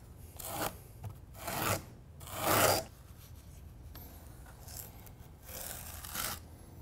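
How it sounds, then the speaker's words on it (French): Notched Kerdi trowel with 1/8-inch teeth dragged through cement over a waterproofing membrane in a corner shower, several separate rasping scrapes of varied strength, close and clear, with no voices. "Puis là, je vais repasser la truelle."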